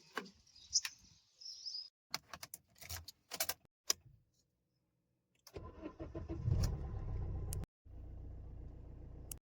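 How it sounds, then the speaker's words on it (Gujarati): A car sits in rural Kutch with a few sharp clicks and clunks, then the engine cranks and catches. It runs with a rough mid-range rumble that settles into a steady idle as the car gets under way. "તો સામે પડી આપણી ગાડી."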